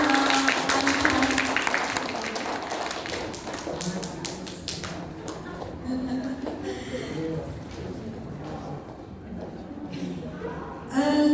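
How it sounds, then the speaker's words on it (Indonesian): Audience applause at a business seminar on earning a first 100 million, a dense wash of clapping filling the room for several seconds, then thinning out as a voice talks over the tail and a fresh burst of claps returns at the end. "Tepuk tangan dulu untuk"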